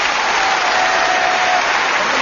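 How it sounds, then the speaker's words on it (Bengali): Studio audience clapping to welcome a guest on a Bengali entertainment game show, a steady, dense wash of applause running loud and unbroken throughout. "একটা হাততালি হয়ে যাক"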